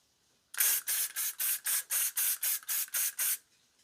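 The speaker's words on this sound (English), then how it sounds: "So I just take a hairspray and spray that at the root instead." A rapid series of about eleven short, sharp hairspray bursts in an even rhythm, close and loud, aimed at hair roots, followed by quiet.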